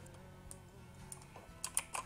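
Quick keystrokes tap on a computer keyboard, a short burst of light clicks building to a few sharper presses near the end, close and without speech.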